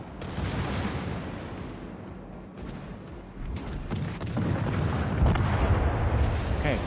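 Naval gunfire in World of Warships Legends, heavy booming salvos rumbling low and building in the second half, with a short spoken word from a person near the start.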